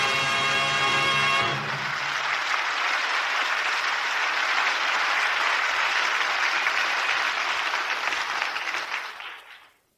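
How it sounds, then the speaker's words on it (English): An audience bursts into sustained applause after a radio theater performance, a dense wash of clapping that starts as music ends, holds steady for several seconds and then fades out. "That applause is for you."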